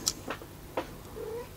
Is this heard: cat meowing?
yes